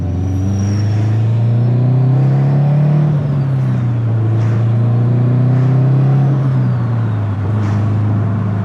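A built 2005 Subaru STi engine drones and revs steadily as it accelerates, with a faint rising whistle of a turbo spooling above the rumble.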